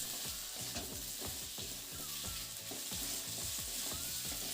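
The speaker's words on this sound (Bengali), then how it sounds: "আলুটাকে একটু সময় নিয়ে ভেজে নেব" Potatoes fry in oil in a pan, a steady close sizzle running throughout with repeated scraping and stirring knocks over it, no voices.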